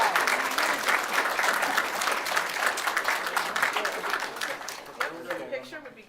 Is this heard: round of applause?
yes